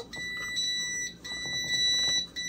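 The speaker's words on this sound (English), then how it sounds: "All right, so it made the beeping noise." A two-station EENOUR tumbler mug heat press sounds its electronic alarm, a sustained high beeping tone that repeats in pulses over steady background noise, fairly loud and close with no talking.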